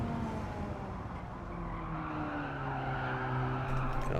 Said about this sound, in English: Car just slides around there and I don't want it to.